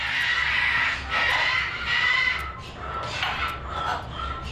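A pet baby bird named Rocky gives a few short, harsh calls in bursts, close by and moderately loud over a low background hum.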